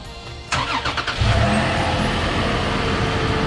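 A Toyota 4Runner with a TRD intake and exhaust package cranks and fires up, a short starter whir followed by the engine catching into a loud, steady idle rumble close by.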